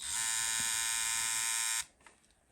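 TPOB XO hair clippers run with a loud, steady high-pitched buzz for nearly two seconds, then switch off, leaving a faint rattle.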